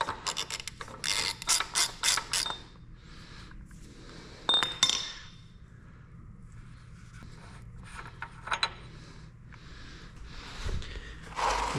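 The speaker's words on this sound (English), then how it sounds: "Now we can spin our hub nut off." Metallic ratcheting, clinks and tool rattles come as a hub nut is spun off a GM 14-bolt full-float axle during teardown, in quiet bursts with pauses between.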